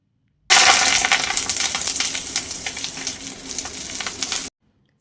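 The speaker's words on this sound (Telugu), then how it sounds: "ఇప్పుడు అదే కళాయిలో మరొక స్పూన్ ఆయిల్ వేసుకొని మనం శుభ్రం చేసి పెట్టుకున్న కరివేపాకు వేసుకోవాలి" Curry leaves fry in a spoonful of oil in a kadai pan, a loud close crackling sizzle with sharp popping that starts abruptly, eases slightly, then cuts off after about four seconds.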